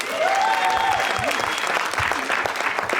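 A live concert audience applauds loudly and steadily throughout, dense clapping filling the whole moment, with a voice briefly audible over it.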